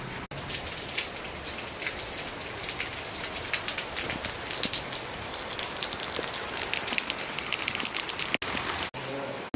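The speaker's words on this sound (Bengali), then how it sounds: "বাইরে বৃষ্টি হচ্ছে" Rain pours outside on a cloudy morning in Balasore district, Odisha, a dense steady patter of drops hitting surfaces, close and continuous for the whole stretch.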